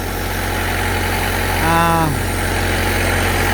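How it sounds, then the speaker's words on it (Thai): A small engine runs steadily on a mini straw baler under test, giving a constant close, loud idling drone, with a brief rising tonal whine in the middle. "รถอัดฟางนะครับผม ตอนนี้เครื่องยนต์อะไรพร้อมแล้วนะครับ"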